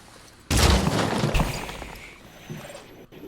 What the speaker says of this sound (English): Let's go for that hand cannon again.